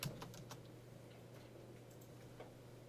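Keys clatter on a computer keyboard during a C++ programming class, a few quiet scattered taps early on over a steady low electrical hum, with no talking.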